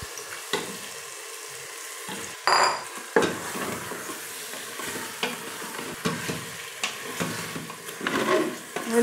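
Chicken frying in a pan, put in by hand on top of spices already cooking, with steady sizzling and several sharp metal clanks and scrapes from stirring, moderately close and without talk.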